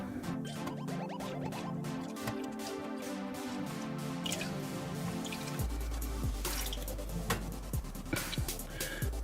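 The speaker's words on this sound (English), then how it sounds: "I'm just pumping some fluid through" Brake fluid drips steadily while the brakes of an Acura MDX are bled, a close, quiet run of small wet plops and trickles over a low background hum.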